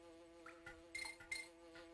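Buzzing bees in the Donkey Kong Country video game, a faint continuous insect-like drone with a few short, brighter sound effects layered on top, quiet and without speech.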